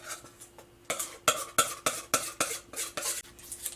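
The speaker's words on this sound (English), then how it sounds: "I'm going to add the mixture to my springform pan." Coconut cheesecake mixture goes into a springform pan in a series of about ten sharp, close utensil scrapes and clinks against the pan, evenly spaced with brief quiet gaps.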